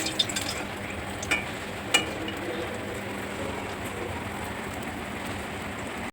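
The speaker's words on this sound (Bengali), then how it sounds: "কড়াইতে যে তেল ছিল ওই তেলের মধ্যে দুটো শুকনো লঙ্কা দিয়ে দিলাম" Two dried red chillies fry in hot oil in a wok, giving a steady crackling sizzle with a few sharper pops near the start.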